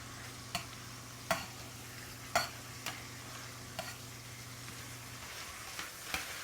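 Large meat chunks searing in a hot pan for an Italian holiday feast, a steady low sizzle broken by a few sharp clanks and taps of a utensil against the pan, fairly quiet with no talking.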